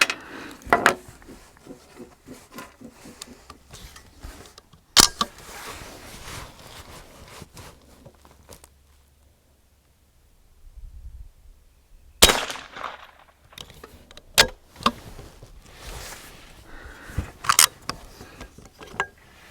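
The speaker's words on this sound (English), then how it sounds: "we've just got constant jams here with Federal Hunter Match" A Savage A22r .22LR semi-automatic rifle fires Federal Hunter Match rounds at an outdoor range, a handful of sharp isolated cracks spread unevenly, with a long quiet pause mid-clip and fainter handling clatter between shots, suggesting jams.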